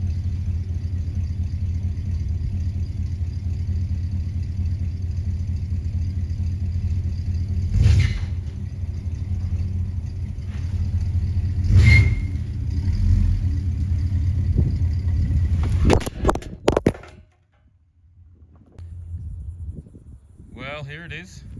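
A Holden Monaro limited edition coupe's engine rumbles at low speed while creeping onto a car lift, a steady close idle with a few brief blips, then cutting to quieter sounds near the end.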